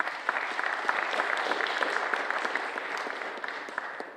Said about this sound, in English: Just a round of applause for Pete, please.